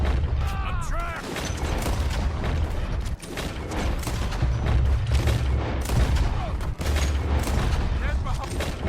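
Gunfire rings out in the Red Dead Redemption 2 video game during a wagon shootout: dense, sustained shots and booms layered with game music and sound effects, with characters shouting over the battle.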